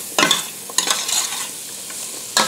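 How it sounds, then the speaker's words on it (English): Red cabbage with nutmeg, cloves and cinnamon being stirred as the spices toast in a pan, giving a few scraping stir strokes over a soft steady sizzle, close and moderately loud with no talking. "Stir this up. Woohoo! What a fragrance when that spice starts toasting."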